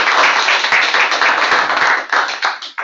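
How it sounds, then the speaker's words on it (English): Audience applause for a lecture speaker at a cyber lecture series, dense continuous clapping from a crowd, loud and steady throughout before tapering slightly at the end. "how about a round of applause for Charlie?"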